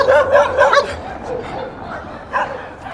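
A dog barks several times in quick bursts, fairly close, followed by quieter whines and another short bark near the end.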